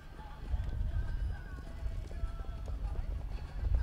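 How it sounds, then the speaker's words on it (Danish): An Icelandic horse trots in a senior A-final at the 2009 Danish championship, its hoofbeats thudding in a steady clip-clop rhythm amid background noise from the arena. "Fik sin hest i trav her."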